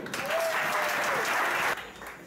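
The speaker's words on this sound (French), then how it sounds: "Je vous demande de l'applaudir comme il se doit, Nathalie Léger." An audience at a French political meeting applauds loudly and steadily, the clapping dense and close before cutting off abruptly near the end.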